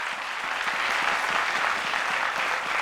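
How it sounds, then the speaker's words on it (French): Steady audience applause for a performer on a talk show, dense and sustained at an even level throughout with no speech over it. "Applaudissements pour ce garçon."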